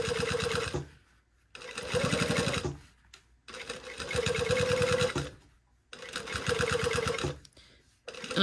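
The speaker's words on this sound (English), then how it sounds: "I'm sewing about, I don't know, 1/16 of the way from the seam line" A sewing machine stitches close to a seam line while quilting a Style Arc Ziggi garment, running in steady whirring bursts of about a second each with short pauses between.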